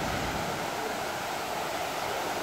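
Stream water flows near a pond where people come to rest, a steady, even rushing wash that stays constant throughout with no voices.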